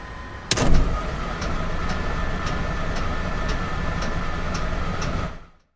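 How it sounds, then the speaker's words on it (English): The starter of a Beechcraft Duke turns the engine over at room temperature in MSFS, opening with a sharp click, then a steady whirring crank with rhythmic pulses that cuts off abruptly at the end. "For comparison, here's the engine cranking at room temperature."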